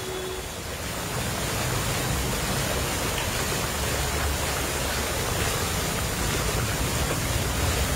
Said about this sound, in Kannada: ನೀರಿನ ಕಾರಂಜಿ.